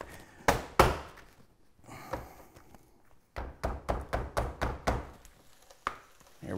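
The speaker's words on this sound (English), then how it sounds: "when you cut the ice and all" A block of clear ice being cut, with sharp knocking strikes: a couple of isolated hits, then a rapid run of about eight evenly spaced chops, and one final hit, close and alone.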